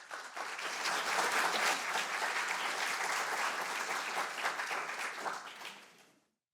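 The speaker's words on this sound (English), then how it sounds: "can we just give her another round of applause, please?" Audience applause after a performance at a community event, a dense, steady round of clapping from a sizable crowd that holds for several seconds, then tapers and stops abruptly.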